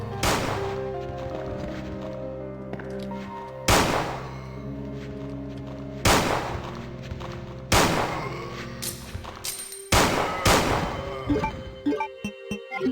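A Colt handgun in Resident Evil 2 fires four loud, booming shots several seconds apart, each with a long ringing tail, then a faster burst of shots followed by quick mechanical reload clicks and clacks, with no voices.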